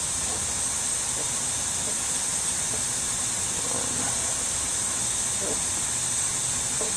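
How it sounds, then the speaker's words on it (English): An ultrasonic cleaner runs steadily as a Kenmore 72 sewing machine is serviced, giving a constant high-pitched hiss with a bright whine on top, even and unbroken throughout. "Maybe the sonic cleaner is going to be a bit quieter now."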